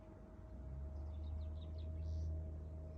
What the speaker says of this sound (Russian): Слышите, птички поют.